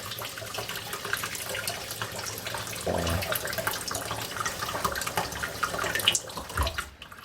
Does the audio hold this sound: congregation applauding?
no